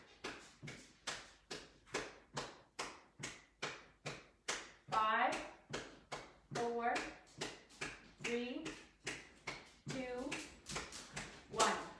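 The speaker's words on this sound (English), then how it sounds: "Let's go back to march and clap for 30 seconds." Steady rhythmic claps and marching taps from a seated dance exercise class, repeating about twice a second throughout, with someone talking over the beat in the middle section.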